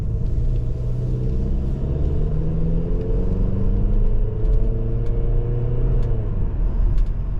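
A 2019 Kia Optima SXL car drives with a deep, steady engine rumble heard from inside, its tone climbing as it accelerates through gears, loud and continuous without speech.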